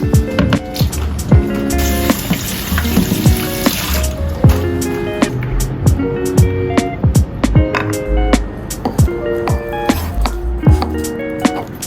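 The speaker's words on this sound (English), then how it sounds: "Wash white tofu and sliced." White tofu washed under running water at a kitchen sink, with a continuous water stream, wet squishes and dripping, and repeated sharp clacks and knocks over it.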